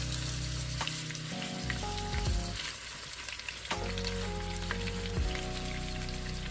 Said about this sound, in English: So we about to put this roast in there and hear that sizzle